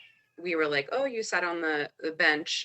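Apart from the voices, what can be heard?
cat meowing in the background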